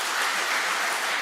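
A conference audience at a rural development event on bioeconomy applauds, with dense, even clapping that holds at a steady level through the short span.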